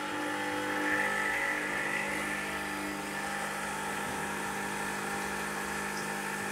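A Gaggia Classic espresso machine pumps descaler through its system, giving a steady, fairly quiet mechanical hum and buzz that holds evenly throughout.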